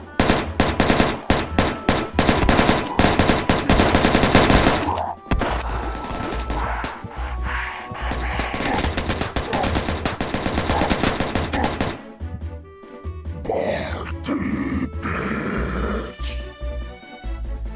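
Rapid bursts of automatic gunfire in the video game Dead Dozen, loud and dense, with nonstop volleys for the first five seconds, then sustained rattling fire and scattered shots toward the end.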